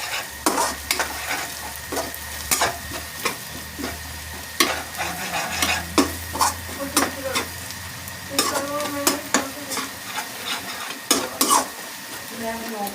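Spatula scraping and stirring a masala of ground chili, coriander and pomegranate seed in a frying pan for bhindi fry, repeated sharp close scrapes and clinks over a soft sizzle, no talking.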